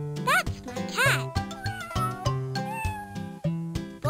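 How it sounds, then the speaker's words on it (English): Two sweeping cartoonish cat meows from the PC game Maggie's Farmyard Adventure, close and clear, over a bouncy synthesized game tune with steady bass notes. "That's my cat."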